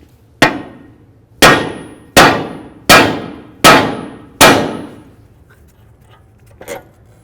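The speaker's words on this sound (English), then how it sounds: "Using a little hammer, hit right along here" Six sharp metallic clangs from a small hammer striking the front strut assembly of a 2006-2010 Dodge Charger, spaced roughly a second apart, each ringing briefly and fading, followed by a faint knock.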